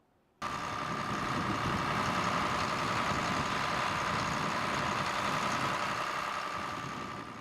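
Tractor engine running steadily under GPS auto steering on farmland, a sudden loud onset of continuous engine drone with a sustained whine, holding level then easing slightly at the end, no voices.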